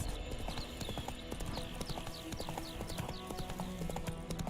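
Hooves of Roach, Geralt's horse in The Witcher 3 video game, clip-clop in a steady rhythm over a dense game background, with a brief whinny-like call.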